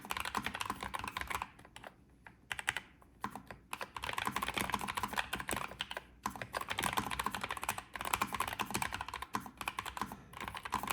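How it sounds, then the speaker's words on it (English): Typing on a Nuphy Air 75 v2 mechanical keyboard, close and continuous bursts of quick deep-toned keystrokes with brief pauses between runs. "I'm sure you want to hear what the actual keyboard sounds like"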